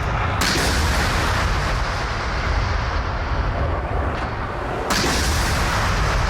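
Russian warships open fire in a video game naval battle off Odesa, deep rumbling booms and blasts layered in a dense, loud barrage with sharp new onsets as salvos land.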